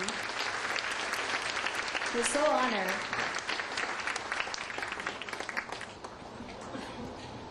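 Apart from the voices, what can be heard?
audience applause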